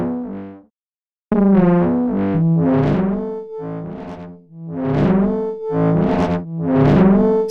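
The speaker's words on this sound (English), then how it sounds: "Envelope will apply a 3-stage volume envelope." Synth notes from the Dreamer plugin shaped by a three-stage attack, hold and decay volume envelope, a run of about eight rich harmonic tones with swelling onsets and fading tails, loud and alone after a brief opening note and a short gap.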